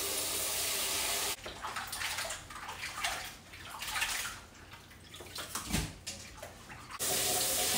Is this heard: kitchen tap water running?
yes